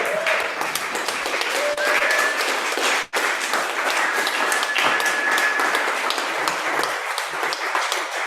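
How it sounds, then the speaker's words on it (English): Sustained audience applause for the poets Sarah Clancy and Laima Vincė at an evening reading event, a dense steady wash of many clapping hands lasting several seconds with a brief dip partway through. "can I ask you for a huge round of applause for Sarah Clancy and Laima"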